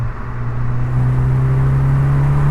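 Car engine revving steadily up to about 5,000 RPM inside a road tunnel, a loud, sustained droning hum with a rising tone that fills the space, heard alone with no talking.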